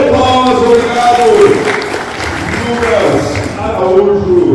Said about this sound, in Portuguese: Salve de palmas, obrigado!